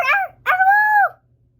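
A person's voice imitates a coyote howl, giving a short yip followed by a longer rising and falling wail, close and clear against silence.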